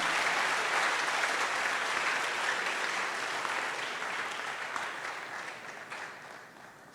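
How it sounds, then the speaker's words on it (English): A campus hall audience at a university entrepreneurship event claps steadily and loudly for a sponsoring bank, a dense sustained wash of applause that tapers slightly toward the end. "Hey, let's clap again for GCB Bank."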